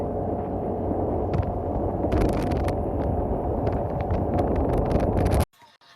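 Riding a new scooter brings a steady, loud rush of wind buffeting the microphone over a low engine drone, holding constant for about five seconds before cutting out abruptly.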